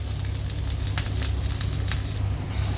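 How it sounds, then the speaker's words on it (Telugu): Green chillies, ginger and curry leaves sizzle steadily in hot oil for upma, a close, continuous crackling fry with occasional sharper pops. "ఇవన్నీ ఇప్పుడు ఆయిల్లో ఫ్రై చేసుకోవాలి"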